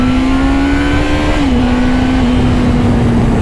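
A Honda CBF 1000 motorcycle engine pulls hard under acceleration, a loud, steady, close drone that dips briefly in pitch partway through, like a gear change, with no talking.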